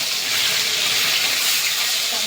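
Pieces of salted, turmeric-rubbed snakehead fish fry in hot oil in a pan, giving a steady, close, bright sizzling hiss with no pauses.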